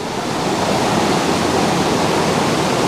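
Steady, dense roar of a waterfall rushing at close range in a landscape setting, continuous broadband wash with no voices over it.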